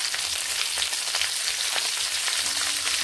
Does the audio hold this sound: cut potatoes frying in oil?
yes